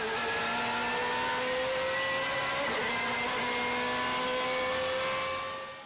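A BMW M3 GTR race car with a P60B40 V8 and straight-cut gearbox howls past at high revs, its engine tone steady and loud before fading away at the end.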